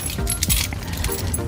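A bunch of Toyota Vios car keys jangles and clinks in hand, a busy metallic rattle lasting the whole moment, close and fairly loud.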